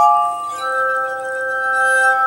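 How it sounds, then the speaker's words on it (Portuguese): Glass harmonica played with sustained, pure ringing tones, a chord of several clear pitches swelling and holding steadily, alone with no talk. "Já comenta aqui embaixo se você conhecia ou não a harmônica de vidro e se você gostou do som dela"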